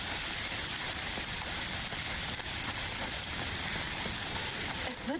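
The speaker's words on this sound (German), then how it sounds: "Es sieht sogar im Regen richtig schön aus." Rain falls steadily in the video game A Plague Tale: Requiem, a dense, continuous hiss of drops spread evenly throughout, with a few faint rustles near the end.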